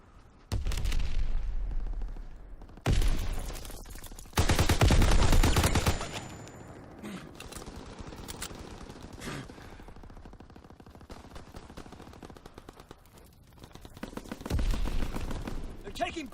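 Bursts of rifle and machine-gun fire in Call of Duty WW2 Domination multiplayer, several loud close volleys separated by quieter stretches of distant shots, with a player's voice and game announcements in between.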